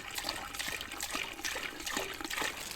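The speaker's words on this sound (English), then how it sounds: "we're going to fill this about halfway with water" Water poured from a container into a pot for an outdoor campfire seafood boil, with butter already in it; a steady, close splashing trickle that runs continuously for a few seconds with no talking.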